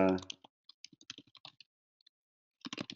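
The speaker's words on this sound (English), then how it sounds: "I'll just start typing something in here just for sake of time in here." Scattered keystrokes tap on a computer keyboard in irregular bursts, quiet and close, with a brief voice at the start and a faster flurry of typing at the end.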